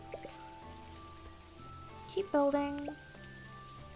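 Rain in the farming and building video game Dinkum, a soft steady patter that runs under game music tones and chimes, with a voice talking briefly over it.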